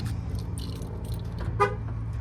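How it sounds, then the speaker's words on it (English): A Nissan NV2500 van's alarm gives one short, close beep while the van sits idling, over a low steady engine hum with faint clicks. "It's gonna beep again."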